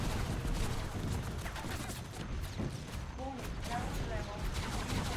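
Homing missiles firing in the Xbox game Spy Hunter 2: dense, continuous volleys of launches and blasts with crackling bursts throughout, loud and steady, a few short whistling tones partway through.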